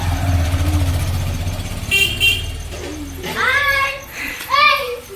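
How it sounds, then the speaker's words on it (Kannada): A vehicle pulls up honking its horn in a village street, a short toot followed by two longer blares, close and loud over engine rumble while children chatter nearby. "ಗಾಡಿ ಬಂತು."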